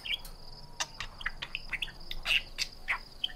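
Pet budgies chirp and tweet in quick, scattered bursts, their bright calls overlapping near the microphone against a faint background hiss.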